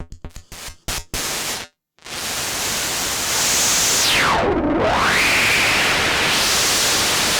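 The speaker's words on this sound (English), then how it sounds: "It's a resonant filter. You can sort of hear it there, but if we put noise in," Noise runs through a synthesizer's resonant filter: a few short bursts, a brief silence, then a steady hiss whose resonant peak sweeps down sharply and climbs back up, loud and alone.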